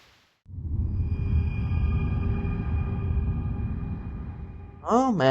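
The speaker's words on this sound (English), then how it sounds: "The rain starts again." Rain falling in the video game Reverse 1999, a dense steady hiss and patter starting abruptly after a brief quiet moment and continuing evenly, with a higher tonal chime rising near the end.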